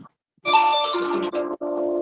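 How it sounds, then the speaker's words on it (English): A phone or iPad rings during a meeting, its loud, close electronic ringtone sounding as a sustained tonal melody that breaks off briefly twice. "sorry, my phone's ringing, but I don't know where it's at."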